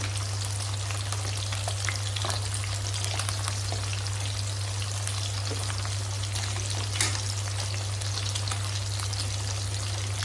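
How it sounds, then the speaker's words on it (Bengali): Dried red chillies and nigella seeds crackle and fry in hot oil as a tempering, a dense, continuous sizzle with scattered pops, close and fairly loud over a steady low hum. "দিয়ে দেবো দুটো শুকনো লঙ্কা কালো জিরে তেলের মধ্যে ফোড়নে।"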